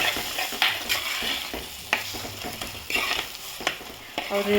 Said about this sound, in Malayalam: ജസ്റ്റ് ഒന്നും കൂടി വഴറ്റി കൊടുക്കാം